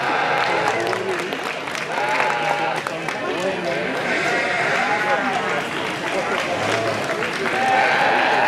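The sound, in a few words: applause at a sheep show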